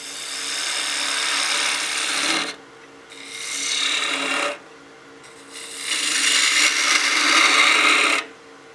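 A 1/2 inch spindle gouge cutting a wooden wine glass spinning on a lathe: three sustained, loud raspy cutting passes, each broken by a short pause when the tool lifts off the wood.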